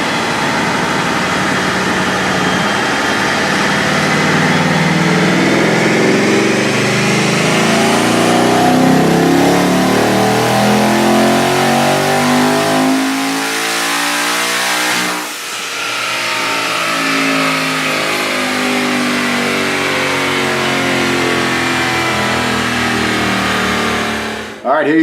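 Twin-turbo Hellion-equipped car engine on a dyno running on 93 octane at 10 psi boost, revving hard and climbing in pitch through a long loud pull, briefly dipping at a shift, then easing off.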